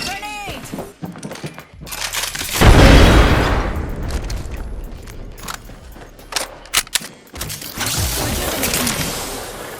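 In Apex Legends, a grenade goes off with a loud, deep boom that rolls out over a couple of seconds. Clicks, scattered gunfire and other game effects crowd the moments around the blast.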